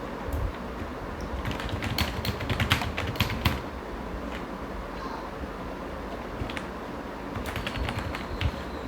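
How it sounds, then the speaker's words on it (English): Rapid clicking of keys on a computer keyboard, an irregular patter of close taps with no talking. "I'm just randomly typing stuff"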